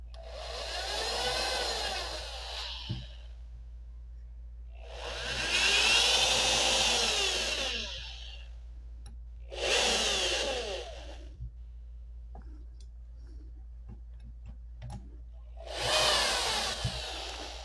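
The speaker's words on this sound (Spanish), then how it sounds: "voy a tomar la barrena para marcar acá" A hand drill with a bit marks the spot for a homemade TV antenna mount, whirring in four loud bursts of a few seconds each, separated by short pauses, with a steady low hum underneath.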